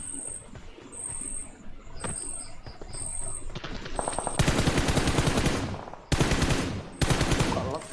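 Gunfire from an enemy in a shooting video game: bursts of rapid automatic fire, faint and scattered at first, then loud sustained volleys from about four seconds on, cut off briefly near six seconds before resuming.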